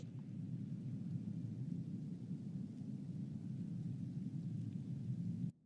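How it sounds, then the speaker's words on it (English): Rainstorm ambience with thunder in Microsoft Flight Simulator 2020 at an Airbus A310 parked at the gate: a constant, even low rumble with a faint hiss above it, holding steady until an abrupt cut at the very end. "it's raining over here today"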